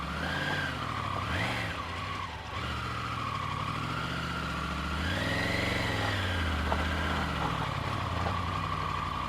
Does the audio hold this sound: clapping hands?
no